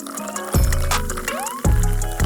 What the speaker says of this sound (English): We're going to pour in our Fever Tree Distiller's Cola.